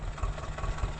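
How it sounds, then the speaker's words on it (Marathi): A steady, low engine rumble chugs along without pause, like a tractor idling close by, with no voices. "बाहेरचा ट्रॅक्टरचा आवाज बी धडधडधड येत"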